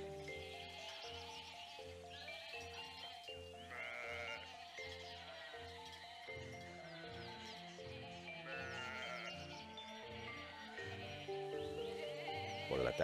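A flock of sheep bleats over and over, the layered, wavering calls overlapping in a steady stream at a moderate, close level.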